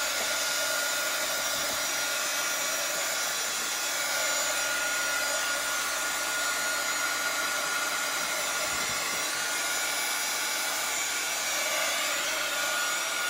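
A hair dryer blows on a shiplap ocean craft tray, a loud, steady, close whir that runs without a break the whole time and has no talking over it.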